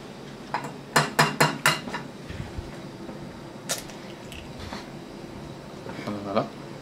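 An egg is cracked into a pan on a Campingaz camping stove at a bivouac: a quick run of four or five sharp taps and clicks, then softer scattered clicks and a faint sizzle against outdoor background noise.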